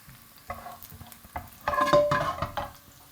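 Garlic crisping in a hot frying pan while being stirred, with soft sizzling and scraping of a utensil against the pan swelling in the second half, close and moderately loud.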